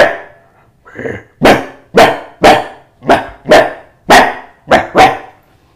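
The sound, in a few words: voice imitating a rowdy dog barking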